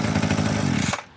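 Small two-stroke engine of a 22-inch Weed Eater hedge trimmer after primer bulb replacement, buzzing loudly and close with a rapid rough putter, then dropping away abruptly after about a second.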